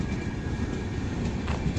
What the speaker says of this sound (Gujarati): જો ભાઈ આ ટ્રેન હાલી જાય છે